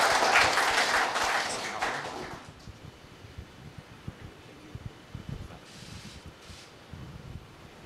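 Audience applause at the opening ceremony of a pool billiards open in Indonesia, a brief burst of clapping in a large hall that quickly fades to scattered faint noise.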